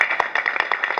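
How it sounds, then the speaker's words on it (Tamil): Audience applause at a Tamil film audio launch event: a brief burst of dense, rapid clapping from a crowd, steady and moderately loud. "ஒரு பெரிய கைத்தட்டல் அண்ணனுக்கு."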